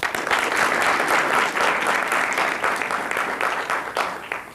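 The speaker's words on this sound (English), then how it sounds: "Please give her a round of applause." A crowd applauds a competitor at a national speech competition, steady close clapping from many hands that swells and then gradually thins out over several seconds.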